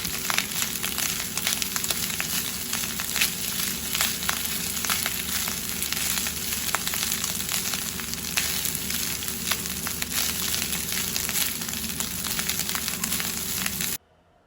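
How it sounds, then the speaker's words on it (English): Rice pre-soaked in egg yolk frying in hot oil for egg fried rice, a steady, loud, dense crackling sizzle that holds evenly for about fourteen seconds before cutting off abruptly. "Remember the rice that is already been soaked in egg yolk directly into the oil and begin to fry."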